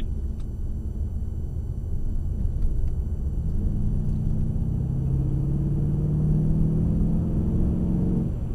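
A Mercedes-Benz CLS63 AMG is driven on the race track at Mercedes-Benz World. Its engine rumbles low and steady from inside the car, then rises in pitch as it accelerates.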